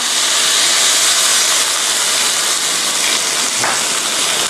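Water hits a hot frying pan of pork ribs with a loud, continuous sizzling hiss of steam that stays strong throughout.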